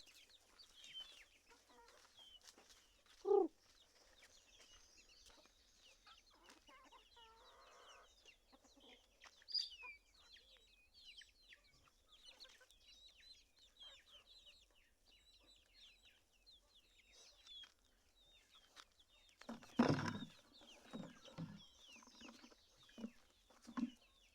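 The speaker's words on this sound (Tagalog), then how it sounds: "Yung manok ko." Chickens cluck and chirp softly nearby throughout, with a few louder squawks breaking in.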